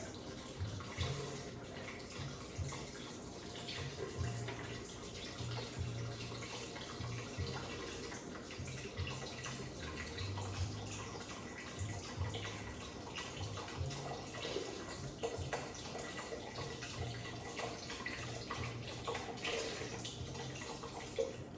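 Steady running water pours into a soup pot for about twenty seconds, a continuous splashing rush with faint clinks and no talking.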